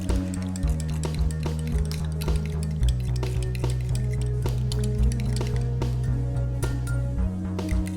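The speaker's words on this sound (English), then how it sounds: "Now I'm going to add my tapioca starch, also known as tapioca flour. Mix it all together." Tapioca starch being mixed into blended homemade deodorant ingredients, with close, repeated clinks and scrapes of a utensil against a bowl over a steady low hum.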